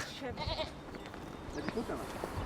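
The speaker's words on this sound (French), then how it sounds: "Oh, il y a des chèvres." Goats bleat in short, wavering calls at a distance in the mountains, mixed with people talking and outdoor background noise.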